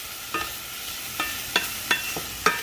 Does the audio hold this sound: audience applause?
no